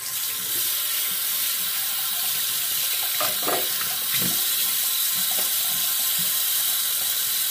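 A tap runs steadily into a sink to rinse a Kamisori Shavette straight razor during a shave, a broad constant hiss with a few faint clicks and clinks near the basin.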